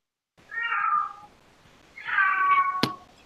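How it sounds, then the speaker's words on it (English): A single cat gives two drawn-out, whiny meows close by with a short pause between them, followed by a sharp click. "See, that cat's annoying."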